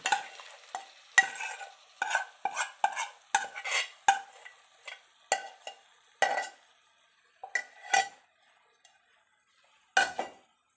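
Spoon stirring crab pieces into masala in a pan for Kerala-style crab curry, a series of irregular scraping clinks and knocks with a faint sizzle between strokes, close up and with no talk.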